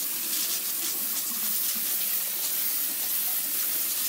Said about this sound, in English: Just about to water them.